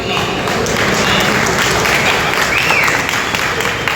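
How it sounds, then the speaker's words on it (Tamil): Large crowd at a political rally in a wedding hall claps loudly and continuously, a dense roar of hands with some voices mixed in. "ஒரு 5000 பேர் கைதட்டுறீங்களா?"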